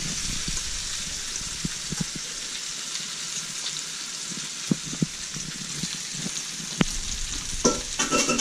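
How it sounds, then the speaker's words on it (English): Vegetables sizzle in butter in a wok, a steady bright crackling hiss close by, punctuated by occasional clanks and stirring knocks, with no one talking. "that sound back there is butter sizzling"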